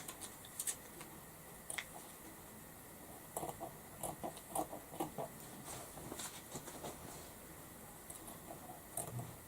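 Scissors snip through fabric pieces for a medieval dress bodice, a series of quiet, short irregular cuts over faint room noise.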